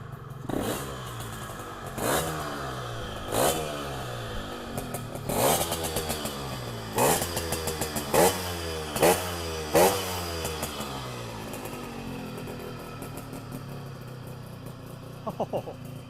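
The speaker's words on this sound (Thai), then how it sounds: "อะลองฟังเสียงเครื่องยนต์กันเลยดีกว่า" A small Yamaha RXK135 motorcycle engine idles close by and is revved repeatedly in sharp bursts, each rising and falling back, then settles into a steady putter.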